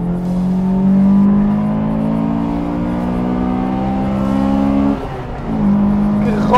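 A Honda Integra Type-R engine, revving to about 8500–9000 rpm, held at high, steady revs, its tone climbing slowly, then dipping briefly before surging back up.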